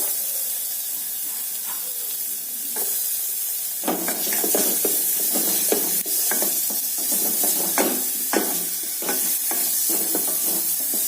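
Chopped onion frying lightly in oil for tomato soup: a quiet lead-in gives way to a loud, close sizzle and hiss, broken by repeated scraping and tapping of a spoon stirring the pan.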